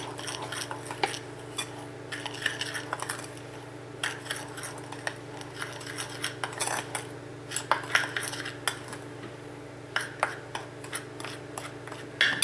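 Apple pie filling being mixed with flour and sugar in a bowl, giving soft irregular scraping and clinking of a utensil against the dish, steady and close with no talking.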